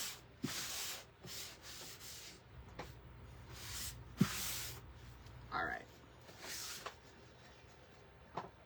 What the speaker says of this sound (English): That's really what I'm doing right now, is just getting it sanded and distressed up.